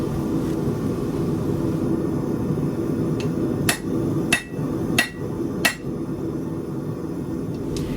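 A hammer strikes a forged steel blade at its leaf end, with four sharp metallic clanks in a slow, steady rhythm over a constant roar of background noise, fairly close and without talking.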